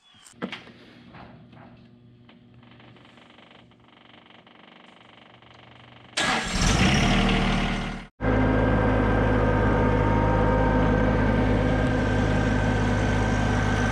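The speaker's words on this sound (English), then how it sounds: "I'm going to get on a little tractor and go up there and work on that" A small tractor engine starts up during brush clearing at the site of a new chicken coop, a sudden loud burst followed by a steady, close, droning idle after quiet outdoor background.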